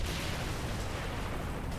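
Dense explosions and gunfire from the Saints Row: The Third video game, a continuous loud rumble of blasts and shots with no talk.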